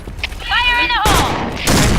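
Grenade blast and gunfire in a first-person shooter video game, a sharp close burst at about one second followed by a second loud burst near the end, with game sounds and a voice around them.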